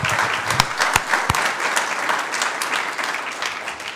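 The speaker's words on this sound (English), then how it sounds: "let's give another round of applause" A city council meeting audience claps for a round of applause honoring high school scholars, a steady dense wash of hands lasting throughout without any speech.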